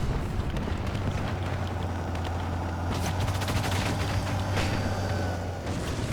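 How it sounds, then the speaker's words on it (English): Dense, continuous rumbling blasts with sharp cracks and bursts from the video game WARNO, a loud sustained barrage of explosions with a steady low hum underneath. "Massive explosions."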